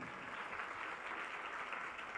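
Steady applause from an audience at a religious discourse, dense and even throughout, fairly faint and distant, with no voices over it.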